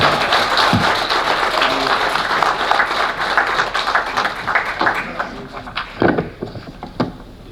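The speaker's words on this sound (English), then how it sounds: "a big applause for all our winners tonight" Audience at an awards gala dinner applauds loudly, a dense sustained wash of clapping close in the room that thins out toward the end, with a few scattered voices.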